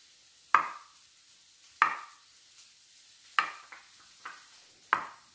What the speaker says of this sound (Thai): หั่นชิ้นเล็กๆกินง่ายดีค่ะ